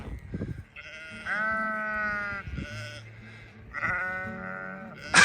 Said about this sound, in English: We encountered hordes of the most vocal sheep I've ever seen